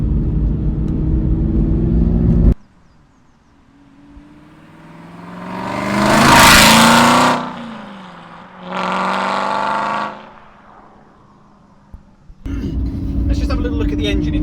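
A 2007 Aston Martin V8 Vantage with a naturally aspirated 4.3 litre V8 drives past, its engine note rising to a loud rev peak and then a second shorter burst, framed by quieter stretches and talk at either end.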